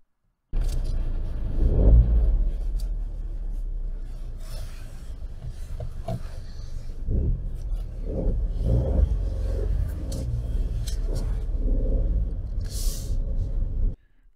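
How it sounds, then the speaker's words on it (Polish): A 2024 Hyundai i10 N-Line with its 1.0 T-GDI turbo three-cylinder, heard from inside the cabin while driving: a steady low engine and road drone with occasional rises, continuous and fairly close, with no talking. "To mała próbka dźwięku silnika z kabiny."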